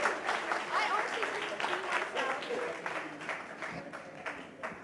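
Audience applause at a red carpet event of a conference, steady moderate clapping throughout, fairly distant and muted, with crowd voices and chatter underneath.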